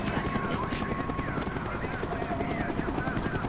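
Enemy helicopter in the Call of Duty video game, a steady loud rotor drone filling the scene continuously under game sound effects.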